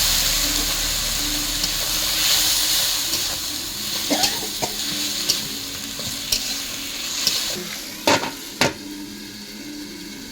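Spice and tomato masala sizzles steadily in a pan after a splash of water, for a seeded-banana chechki, with a few sharp scraping knocks of a spatula standing out near the end.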